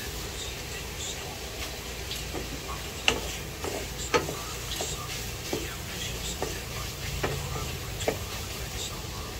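Pork pieces browning in a pan for dinuguan, a soft steady sizzle with irregular ticking spatters and occasional sharper pops, close and fairly quiet.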